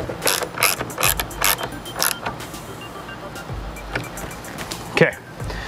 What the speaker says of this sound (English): Grab our 5/8, tighten her down.